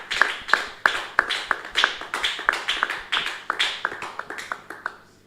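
A congregation at a prayer service claps in a steady rhythm, sharp evenly spaced hand claps repeating about three per second for several seconds, fairly close and without speech.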